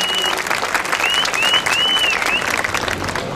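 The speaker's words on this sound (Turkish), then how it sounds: "Çok onlara da özel bir alkış istiyorum." At the opening of the Bursa International Band Festival, an audience applauds municipal bands, with dense, sustained clapping from a large crowd that keeps an even level throughout.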